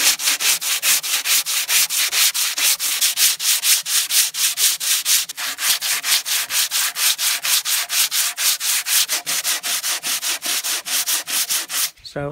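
Hand sanding of a wooden gate produces rhythmic back-and-forth scratchy strokes, steady and close, repeating about twice a second throughout with no talk.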